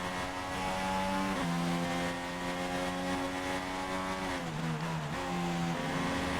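Formula 1 race cars in the F1 2016 video game drone past with a continuous high-revving engine whine, their pitch rising and dipping as they pass and overlap.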